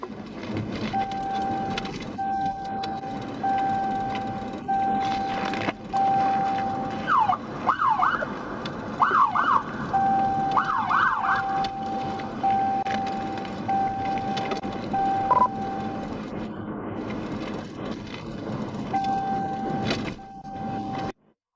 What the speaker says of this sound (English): The trooper activated the siren to get the driver to pull over